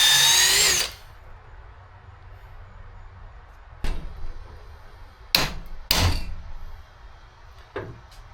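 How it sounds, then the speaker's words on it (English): A loud burst of high-pitched power drill whine on metal at the start, followed by several sharp metallic knocks and clanks spaced apart in a quiet space. "Some guys said you can drill them out, which is what I'm going to try."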